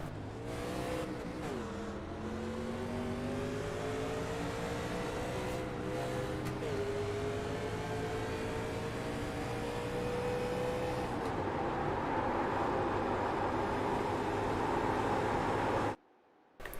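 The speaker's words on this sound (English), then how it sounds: "We'll listen to him get through the gears here once we get that green flag" A race car in an 87 Cup Series race accelerates hard out of a restart on the green flag. The engine climbs in pitch, drops with each upshift, then winds up again, running loud and continuous through several gears.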